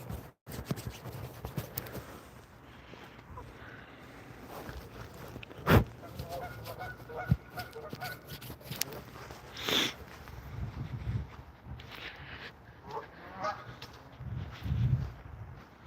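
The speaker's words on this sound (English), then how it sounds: "This is all Canadian geese." Canada geese gathered below in a snowy Pigeon Forge, Tennessee setting, with scattered distant honks and clucks amid steady outdoor wind and rustling, plus a few closer scrapes and bumps near the microphone.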